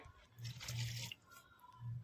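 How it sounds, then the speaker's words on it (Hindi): Water is added in quiet, brief splashy bursts to a clay pot of mustard greens (sarson ka saag) cooking on a stove, faint and close. "थोड़ा पानी हमें कम लग रहा था तो हमने और डाल दिया है इसमें हल्का सा"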